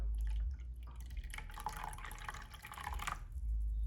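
Water pours and trickles into an ultrasonic cleaner's tank during gold charm cleaning, a steady splashing fill with a low hum underneath, no talking.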